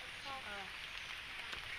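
Rain falls near a swollen village pond, a faint, steady broadband hiss of drops with a brief tonal murmur near the start.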